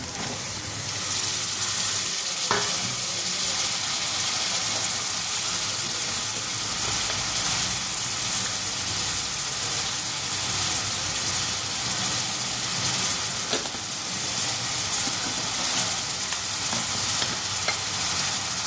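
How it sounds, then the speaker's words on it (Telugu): Onion and tomato pieces frying in a pan for a home-cooked cabbage curry give off a steady, dense sizzle, with a couple of brief stirring clinks and no talking. "ఆనియన్స్ కొంచెం రోస్ట్ అయ్యాక టొమాటో ముక్కలు"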